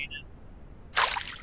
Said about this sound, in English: So we drag one of the containers onto the words and hear that splosh.